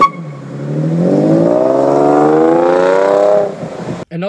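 A V6 car engine, a Jaguar S-Type, revs up loudly and alone, its tone climbing smoothly and holding for about three seconds before it cuts off abruptly.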